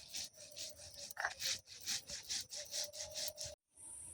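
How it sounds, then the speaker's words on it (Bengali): Rice being ground on a grinding stone for jute leaf fritters, a steady rhythmic back-and-forth scraping in close, regular strokes, about a dozen passes, with a short pause near the end. "আমি একটু চাল বাটাটা পছন্দ করি, তাই একটু চাল বেটে নিচ্ছি।"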